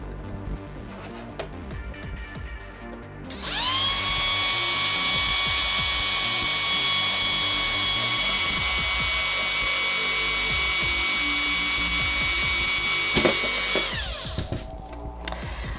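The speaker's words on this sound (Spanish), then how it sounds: "cojo una broca que vaya bien con los remaches que voy a poner y taladro" Power drill with a small bit boring rivet holes into a PS4 Slim console case, a single loud, steady whine lasting about ten seconds that spins up sharply and winds down, with quiet handling noise before and after.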